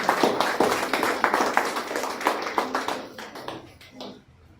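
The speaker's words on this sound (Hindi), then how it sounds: "एक बार जोरदार तालियां इनके लिए," Audience at an award ceremony honouring unorganised sector workers claps loudly and steadily, individual sharp claps clearly distinct, before the applause thins and fades out near the end.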